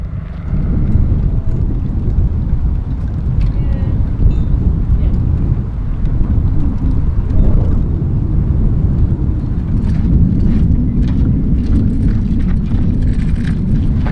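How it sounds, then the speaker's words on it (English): Wind blows around a narrowboat, buffeting the microphone with a loud, low, continuous rumble that holds steady with small gusty swells. "It's definitely been windy, and the wind didn't drop like it was forecast to."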